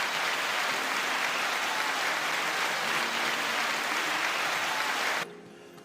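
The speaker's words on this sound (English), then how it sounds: "Once again, round of applause." Audience applause, a dense, loud, uniform wash of clapping that holds steady for about five seconds and then cuts off abruptly into quiet room tone.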